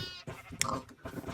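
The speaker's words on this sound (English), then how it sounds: "Eventually I'll split up the sheep and the cows into separate enclosures." Sheep and cows bleat and call in a farm video game, a few short animal cries rising close and clear, one sharp peak midway, with no talk over them.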